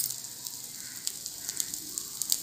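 Mixed dal appe frying in oil in a pan, a soft steady sizzle with faint crackling pops, quiet and close, with no voices over it.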